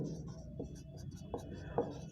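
A pencil or pen writes on paper during an engineering drawing of a comparative scale, giving faint scratchy strokes and short taps, quiet and close, with soft background murmur.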